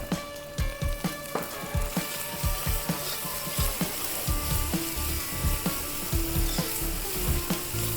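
Ginger, garlic and tomatoes frying in a pan for a village-style kallehuli, a steady close sizzle with regular clicking pops and stirring scrapes throughout, with no talk.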